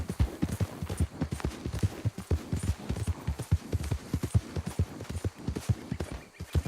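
A horse's hooves clip-clop in a steady, even walking rhythm in Red Dead Redemption II, each hoofbeat close and distinct, continuing throughout with no talk over it.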